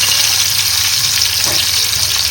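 Fish frying in a pan with a steady, close sizzle and crackle throughout, continuous and fairly loud with no voices.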